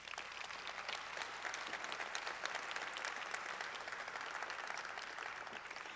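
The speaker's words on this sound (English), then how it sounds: "that does deserve some applause." An audience at a transit agency's public meeting applauds, a soft, distant, even spread of clapping that holds at a steady level throughout.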